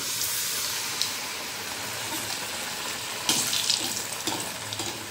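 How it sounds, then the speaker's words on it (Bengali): Eggplant slices coated in gram flour batter frying in hot oil, a dense continuous sizzle with brief bursts of louder bubbling as pieces drop in, close up with no talk. "এবার একটা একটা বেগুন নিয়ে তেলের মধ্যে দিয়ে দেবো"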